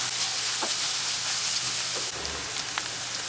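Masala for dhaba-style paneer sabji frying in oil in a pan, a steady close sizzle with scattered stirring scrapes and pops, no talk.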